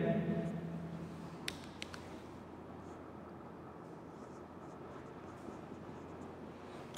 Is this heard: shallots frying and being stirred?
no